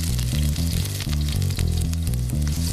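Ginger, garlic and chillies fry in a hot wok with groundnut or vegetable oil, a steady, close sizzle running beneath louder background music.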